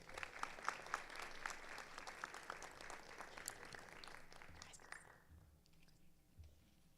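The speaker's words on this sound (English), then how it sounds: "Please another round of applause for our Safety Patrol." Applause at a school board of education meeting honoring safety patrol students: many hands clapping with sharp claps, strong at first and then fading to quiet room noise near the end.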